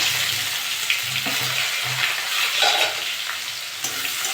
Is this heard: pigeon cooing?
no